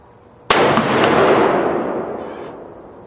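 A single sharp rifle gunshot fired during an accuracy test, loud and close, followed by a long fading echo that rolls out over a couple of seconds.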